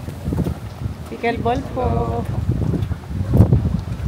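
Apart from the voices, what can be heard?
strong wind at night outdoors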